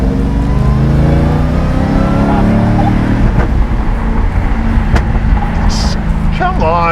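A 755-horsepower LT5 V8 in a 1979 Camaro Z28 revs hard under acceleration, a loud, continuous engine roar rising in pitch before easing off, heard close up with no voices over it.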